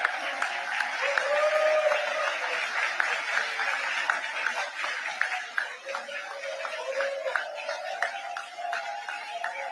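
An audience at a formal awards dinner in New York applauds the dinner co-chairs, with steady, fairly distant clapping from a large crowd sustained throughout, with a light murmur underneath.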